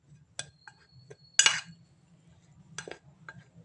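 A spoon stirring masoor dal and besan face mask paste in a bowl: a few scattered, bright clinks and taps, close but quiet, separated by gaps over a faint low hum.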